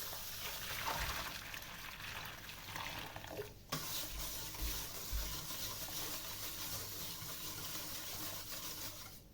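Coarse salt stirred into a deep container of water to dissolve it for green olive brine, a steady swishing and gritty scraping close by, continuous with one sharper knock midway.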